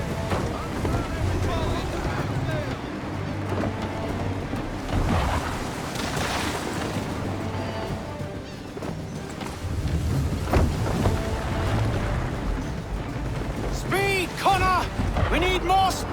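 A sailing ship at sea in Assassin's Creed 3, with loud steady wind and rushing waves against the hull, creaking timbers and surging water, while voices talk over the constant roar.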